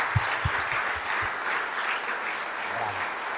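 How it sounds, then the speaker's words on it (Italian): A crowd at an award ceremony in Sardinia applauds steadily, a dense wash of clapping from many hands, with a few sharper claps standing out near the start. "Grazie Michela, facciamo un applauso."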